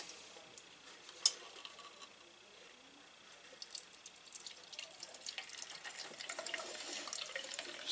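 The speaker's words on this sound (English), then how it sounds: "I think I can pour it one-handed." Pine needle tea is poured one-handed from a pot through a strainer: a quiet, close liquid trickle and splash that builds gradually after a single small clink, with no talking.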